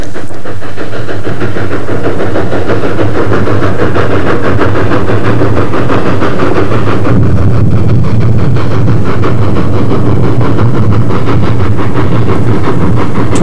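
A Colorado narrow gauge train with freight cars, a combine and caboose runs steadily out of Durango across the Animas River, a continuous loud rumble of engine and rolling wheels with hissing steam and no voices.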